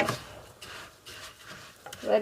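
Rice toasts in a pan while a spoon stirs it, making soft scraping swishes and a light sizzle, close and fairly quiet, with brief bits of a voice at the start and end.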